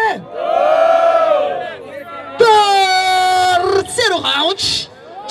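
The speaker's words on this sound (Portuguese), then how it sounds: "barulho para quem gostou mais da rima do MC Dente." A large crowd at a freestyle rap battle in São Gonçalo roars and yells in sustained waves, loud and close, with drawn-out shouted cries rising and falling.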